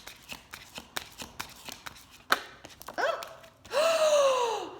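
Oracle cards are shuffled in quick riffling bursts, a steady run of crisp flicks, followed by a gasp and a drawn-out sighing breath.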